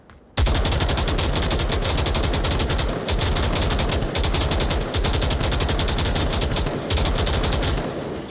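Automatic gunfire from a competitive video game match rattles on almost nonstop in fast bursts, loud and close, with only brief pauses between strings of shots and no talking.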